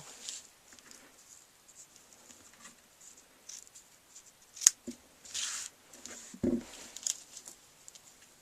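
Scissors snip the ends of paper card at an angle with a few sharp, close, quiet clicks and cuts, spread unevenly among soft rustling handling sounds, with no voices.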